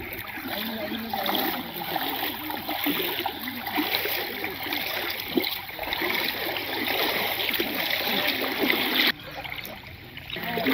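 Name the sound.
Karveti stream flowing after rain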